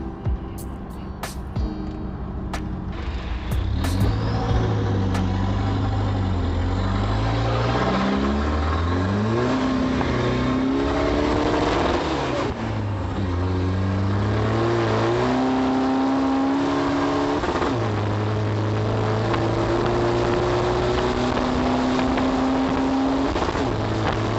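A lifted pickup truck engine revs hard and repeatedly close up, rising and falling in pitch with sustained loud roaring throughout.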